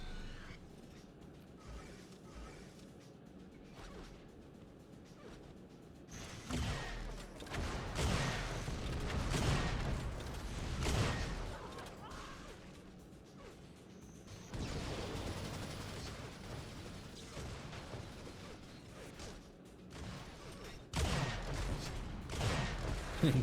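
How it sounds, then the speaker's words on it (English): Sniper rifles fire in an Unreal Tournament match, sharp cracks and booming bursts coming in irregular clusters over a mechanical rattle. Quieter stretches of background game noise lie between the shots. "Close range sniper fighting here."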